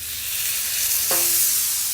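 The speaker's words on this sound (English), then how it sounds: "Nice little sizzle." A tomahawk ribeye steak drops onto a Blackstone griddle heated to about 450 degrees and bursts into a loud, close, hissing sizzle that swells and holds steady to the end, with no talking.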